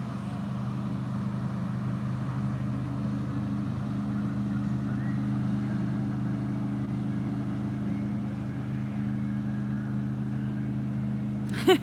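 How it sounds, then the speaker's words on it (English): A boat passes by on the water, its engine giving a steady low droning hum that holds at an even level for about twelve seconds. "Here comes that boat again."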